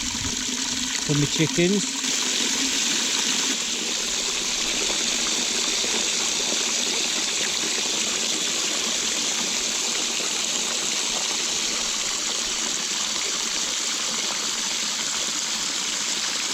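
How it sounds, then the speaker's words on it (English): Water gushes steadily into a water butt on an allotment, a loud continuous splashing rush that barely changes, with someone speaking briefly at the start. "filling this water butt up"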